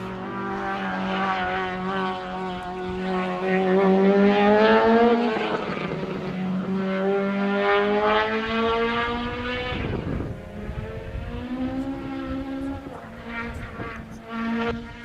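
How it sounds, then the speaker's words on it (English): Several old naturally aspirated Ford Escort rally cars rev loudly and pass close by on a rally stage, engines rising and falling in pitch as they accelerate and shift gears. "I love the sound these old Escorts make too."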